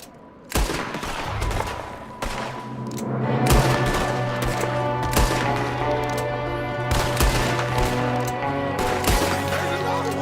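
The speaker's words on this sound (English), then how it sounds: "There's another one shooting from the window." Rapid bursts of gunfire and heavy volleys in the Red Dead Redemption 2 video game, with shots from a window, loud and dense, continuing almost without pause through a chaotic firefight.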